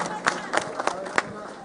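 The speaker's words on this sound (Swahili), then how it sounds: "Round of applause for Governor as he's making his way to the seat" Crowd clapping and cheering for a governor arriving at a Nairobi city iftar gathering, a scattered, moderately loud burst of hands with some voices mixed in.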